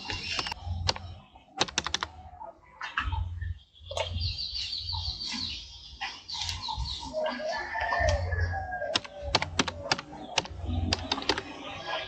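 Someone types on a computer keyboard to fill in an online application form, with quick bursts of sharp key clicks separated by short pauses, close and clear with no talk.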